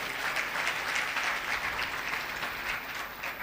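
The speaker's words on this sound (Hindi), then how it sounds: "भैणां लई जोरदार तालियां बजाओ शाबाश" A church congregation claps together in steady, fairly quiet applause during a sermon, an even wash of hand claps with no talking over it.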